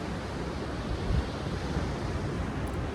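Ocean surf rolls and breaks along a shore on a cold day in broadband wash, with a slightly louder surge near the middle and steady wind noise on the microphone.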